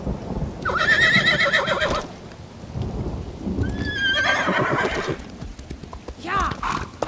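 A horse in the video game ESO (Elder Scrolls Online) whinnies loudly twice, with the second call shorter, over steady hoofbeats and outdoor ambience, and a voice speaks briefly between the calls.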